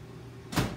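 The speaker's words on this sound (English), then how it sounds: "I'm about to pull the icing out the microwave" A microwave oven door is opened to take out warm icing for a pound cake, a single brief clunk rising out of a low steady hum in a quiet kitchen.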